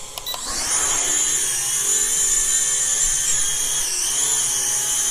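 An ATTOP XT-1 toy drone spins up its propellers and takes off, a high, whining buzz rising quickly then holding steady and loud, with slight pitch wobble near the end.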